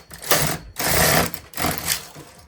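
Carriage of a domestic knitting machine with ribber drawn across the needle bed knitting a row of English rib, loud rushing clatter in two long sweeps separated by short pauses, close up and alone.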